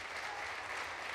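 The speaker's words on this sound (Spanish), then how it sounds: "vamos a aplaudir." A steady wash of audience applause at a book presentation, even and continuous with no break, heard from within the room.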